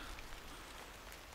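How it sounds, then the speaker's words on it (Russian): Steady rain falling outdoors beside a parked car at a rural digging spot, a dense, even patter of drops holding at constant level throughout, with no voices. "Вот только вышли с машины и сразу пошел дождь."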